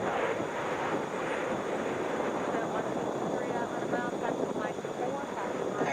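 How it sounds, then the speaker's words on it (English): Continuous engine roar of a United Airlines Boeing 737 MAX 8 arriving at Atlanta airport from Newark, a steady broadband rumble with some wind buffeting, held at an even level throughout. "United Airlines Flight 2464 coming in from Newark in a Boeing 737 MAX 8."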